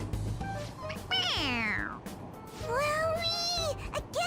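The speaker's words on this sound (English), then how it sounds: "It meows when you press on its head." A toy cat in the video game Persona 5 Royal gives two drawn-out, wavering meows when its head is pressed, loud and close over a low background hum.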